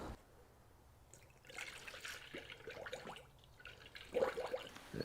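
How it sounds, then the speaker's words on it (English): Coolant trickles and gurgles through a funnel into a 2006-2009 Toyota Prius radiator, a quiet, uneven pour that grows a little stronger toward the end, with no voices. "we'll fill up our radiator"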